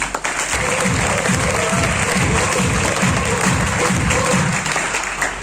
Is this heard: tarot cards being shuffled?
no